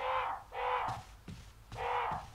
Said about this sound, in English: Those crows, I swear to God.